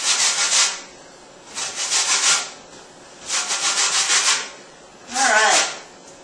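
Lemon rind being zested in four rhythmic bursts of scraping, each about a second long with short pauses between, close and fairly loud with no talking.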